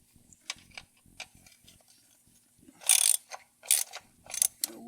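Ratchet tightening bolts during oil and sub-transmission service on a Honda Pioneer 1000, with soft clicking early on and then several loud, close bursts of rapid ratcheting in quick succession.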